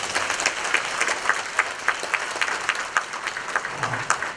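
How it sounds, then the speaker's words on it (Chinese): An audience at a public talk event applauds steadily, a dense, even wash of clapping that lasts throughout at moderate loudness. No one speaks. "我们掌声鼓励一下"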